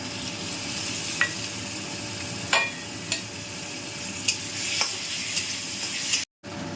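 Ginger garlic paste goes into a frying pan of onions for egg resala, a steady sizzle with occasional soft clinks of a spoon stirring, no voices.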